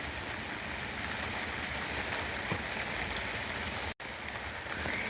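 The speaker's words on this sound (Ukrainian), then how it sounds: "І знову у нас посилюється дощ, на вулиці взагалі не дає нічого робити." Heavy rain outdoors, a dense, steady hiss of falling water with no talk, holding constant except for a brief dropout near the end.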